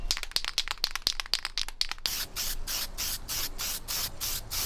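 Aerosol can of silver epoxy enamel paint spraying onto car engine mounts, close hissing bursts in quick short pulses at first, then longer rhythmic sprays with the can rattling.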